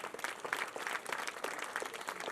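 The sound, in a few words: audience applause at annual school function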